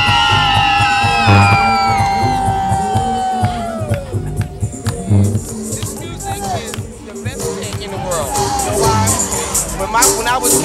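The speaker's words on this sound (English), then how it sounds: "Somebody scream!" A crowd at a live event screams, whoops and cheers loudly, with bursts of yelling and mixed voices rising and falling throughout amid background babble.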